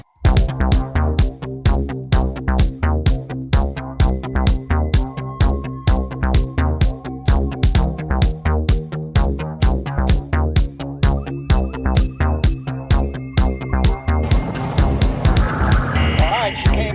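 A GO-4 three-wheeled vehicle's engine runs on a test ride with a steady, loud, rhythmic chugging pulse throughout, rising into a busier, noisier texture near the end.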